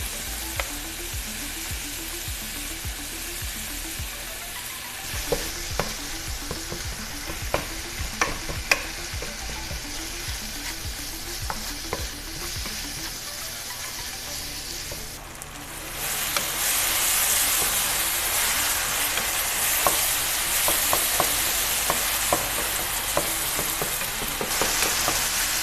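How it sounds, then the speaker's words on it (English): Ground meat with taco seasoning frying in a pan, stirred with regular scraping taps under a steady sizzle that swells into a louder, hissing fry for the second half, close and with no talking. "you're just basically going to cook this with the taco seasoning and some enchilada sauce"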